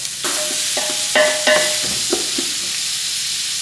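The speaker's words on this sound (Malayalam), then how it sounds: "ഇത് നല്ലോണം വഴറ്റിയെടുക്കണം സവാള നല്ല വാടിയാൽ മാത്രമേ ബിരിയാണി രസം ഉണ്ടാവുള്ളൂ" Onions frying in oil for beef biryani masala, a steady sizzle broken by several clanking stirs of a spoon against the pan, close and without talk.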